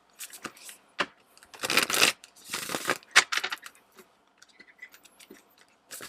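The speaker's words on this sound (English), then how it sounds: "That was a terrible shuffle." Close, rapid riffling of cards in several quick bursts, followed by lighter scattered flicks and taps.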